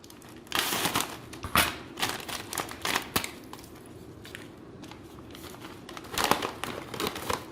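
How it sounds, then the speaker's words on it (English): MRE Cajun mix packet being torn and opened, crinkly plastic crumpling and tearing in several close bursts with quieter rustling between. "Let's open up the Cajun mix."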